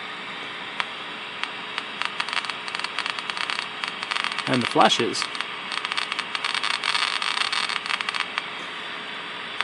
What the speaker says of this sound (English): You can also hear the clicking from my Geiger counter here.